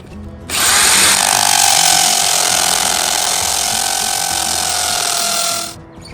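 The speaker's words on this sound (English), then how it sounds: "I'm using a corded hammer drill, but also wearing earplugs. It's pretty loud." A loud corded hammer drill grinds steadily into concrete while installing a porch railing, starting abruptly and running continuously for about five seconds before cutting off.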